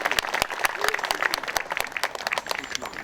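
A room full of people at a May 18 memorial ceremony applauds, steady clapping from a crowd at moderate volume, with a voice audible underneath.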